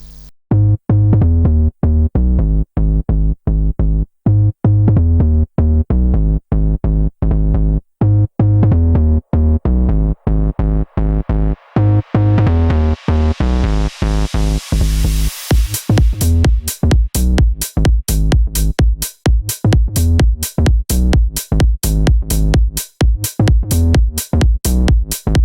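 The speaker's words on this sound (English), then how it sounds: "this bass sound we want to create now sounds like this" A deep, punchy deep house synth bass from an Elektron Analog Four plays a rhythmic pattern of short repeated notes, its tone gradually opening up brighter before settling into a steady groove.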